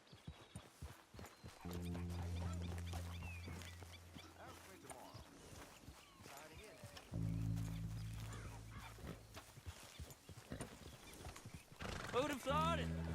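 Horses in the video game Red Dead Redemption 2 whinny twice, loud drawn-out neighs, while hooves clip-clop steadily underneath, with characters talking over the scene.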